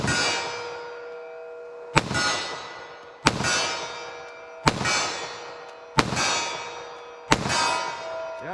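Six sharp .45 ACP pistol shots fired at an outdoor range at 25 yards crack out at roughly even intervals of just over a second, each loud report trailing a long ringing decay.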